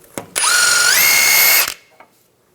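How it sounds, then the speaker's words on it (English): Power tool with a 24mm socket spinning off the inner tie rod jam nut on a 2015-2020 Cadillac Escalade; one loud, close whirring burst of just over a second, rising in pitch partway through, framed by a few small clicks and no talk. "We're going to take the jam nut off with a 24mm socket."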